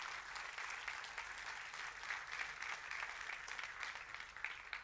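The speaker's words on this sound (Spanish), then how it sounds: "Den un fuerte aplauso a Dios por eso" A church congregation applauds steadily, a dense, even wash of clapping from a crowd indoors, sustained and moderately loud with no break.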